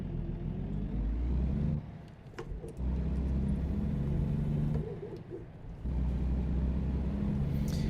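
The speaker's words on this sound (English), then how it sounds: "there's a bunch of cars coming this way" Engine hum and road rumble swell and fade as cars pass one after another in American Truck Simulator, steady and fairly close, with brief dips between vehicles.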